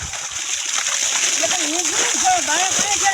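Water sprays and splashes steadily around a buffalo, a continuous close wash of spatter with a few voices rising faintly over it.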